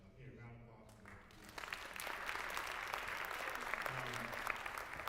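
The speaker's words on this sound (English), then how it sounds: "round of applause for them." A room of people at a Martin Luther King Jr. Day breakfast event breaks into a round of applause, the clapping swelling in after a speaker's voice and continuing steadily.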